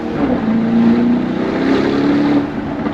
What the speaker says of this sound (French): Là, ça a une vraie sonorité, le Urus.